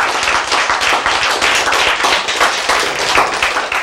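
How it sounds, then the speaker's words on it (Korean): Audience at a lecture on conquering hypertension clapping hands together, dense loud applause with individual claps audible in a quick irregular patter throughout. "자, 이때는 박수 한번 쳐야 되죠."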